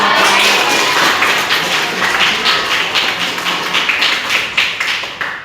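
Classroom audience clapping after a group's presentation, a steady run of closely spaced claps from a small group, loud and near, with the rhythm growing more separate toward the end.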